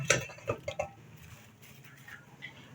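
A spoon clatters against a pan a few times while tikka pieces are stirred into thick masala gravy, with quick metallic knocks at first, then quieter scraping.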